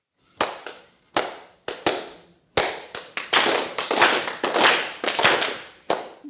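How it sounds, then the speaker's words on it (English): Hand clapping in a rhythm game led by a music teacher working with deaf students: sharp, close claps, first spaced singly, then grouped into quicker patterned bursts, each crisp and loud against silence. "The reason I do clapping games is that it's rhythm."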